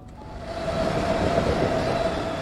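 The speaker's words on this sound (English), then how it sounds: "Is this a train?" A train rumbles past in the horror game When The Darkness Comes, a loud, steady rolling roar with a faint sustained metallic whine running through it and no talk over it.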